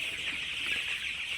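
Chickens cluck in a poultry shed, a dense, steady chorus of many birds murmuring together at moderate distance, continuous throughout.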